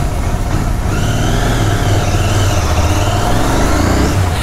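A Royal Enfield Continental GT 650 motorcycle in Rockers Red, with a 650 cc metal engine, pulls away on a city ride, its engine note rising steadily and loud and close throughout.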